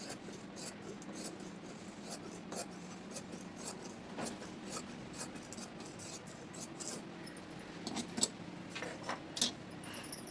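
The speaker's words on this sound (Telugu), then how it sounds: "ఈ కింద మనకి ఎక్స్ట్రా ఉన్నది కట్ చేసేయండి" Scissors cut through blouse fabric, giving a series of soft irregular snips and rustles, close and quiet, with faint talk now and then.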